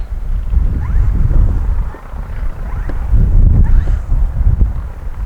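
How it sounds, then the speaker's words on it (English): Strong gusty wind buffets the microphone at an RC model airfield during the flight of an E-flite Carbon Z T-28, a loud continuous low rumble that swells and eases in gusts throughout. "Windy. Very windy."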